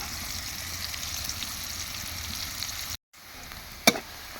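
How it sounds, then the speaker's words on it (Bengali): Onions fry in a hot pan for a Bengali beef tripe bhuna, giving a steady, close sizzle with a brief drop near the end and one sharp clatter afterward. "পেঁয়াজটা ভালো করে লাল লাল করে ভেজে নেব।"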